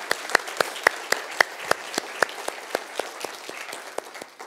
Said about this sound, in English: I'd be grateful if we could give Nancy a round of applause.